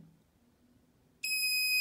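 A K68 signal detector suddenly starts emitting a steady, piercing electronic beep as its antenna nears a magnet, loud and close after a quiet start.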